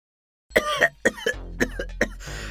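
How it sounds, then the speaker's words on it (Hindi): A man with a cough that won't go away lets out a series of harsh, close coughs: a heavy double cough, then several shorter hacks and a wheezy breath, all fairly loud. "मैडम, ये खांसी जा ही नहीं रही।"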